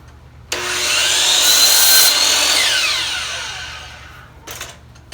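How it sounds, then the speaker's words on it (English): Miter saw set to 20 degrees cutting through wood: a loud motor whine spins up, bites into the board with a rising then falling buzz for a few seconds, followed by a brief clatter as the blade winds down. "the miter saw is set to 20, so let's go ahead and make this cut now"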